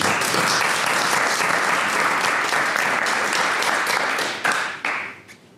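Steady applause from an audience welcoming a speaker at a French corporate talk on managerial innovation, dense clapping throughout that thins and breaks into a few scattered claps before fading at the end.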